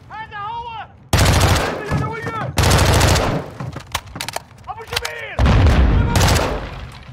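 Call of Duty: Modern Warfare II gunfire bursts in loud, dense volleys separated by brief gaps, with tonal whooping game sounds between them and some voices mixed in.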